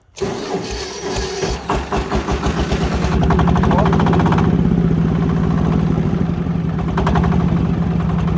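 A Kentavr 160V walk-behind tractor engine cranks into life, then runs loud and close with a steady rhythmic chug that swells as the hand throttle is pulled open.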